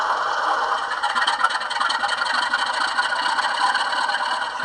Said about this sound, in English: this is fuel pump on and cold engine start.